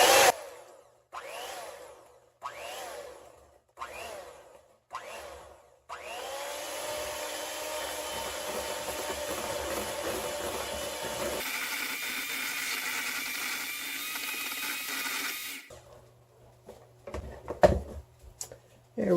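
An electric hand mixer beats vanilla and two eggs into chocolate chip cookie batter, whirring steadily and close for several seconds after some brief bursts, then changing pitch as it runs on.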